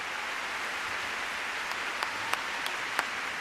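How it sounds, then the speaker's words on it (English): A large arena audience at an ice dance free dance competition applauds in a broad, even wash of clapping, with a few sharper claps standing out near the end. "Charlie White leading the applause."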